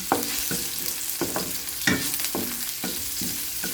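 Pepper being stirred into a pan of frying squid adobo, loud continuous sizzle with rhythmic scraping strokes of a spatula, close up.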